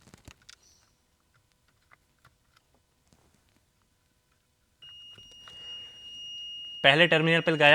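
A multimeter emits a steady, continuous continuity beep while testing the cruise control circuit of a Toyota Camry. The tone starts partway through after quiet probing and keeps sounding as someone speaks over it.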